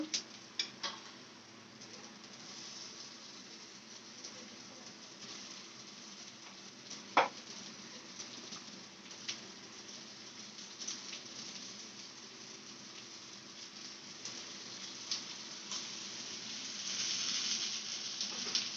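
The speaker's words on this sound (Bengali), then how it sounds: "কড়াইতে দিয়ে দিচ্ছে ভাজার জন্য" Dhoka lentil cakes fry in a kadai, giving a steady, moderate sizzle with occasional sharp pops and a stirring clatter, no voices.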